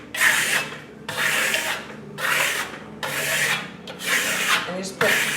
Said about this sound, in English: burnishing it is just lightly pulling your trowel